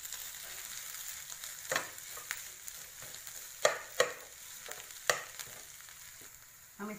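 Potato vada filling mixed with chopped coriander leaves in a pan, a faint background sizzle punctuated by several distinct spoon knocks and scrapes spread unevenly across the stretch.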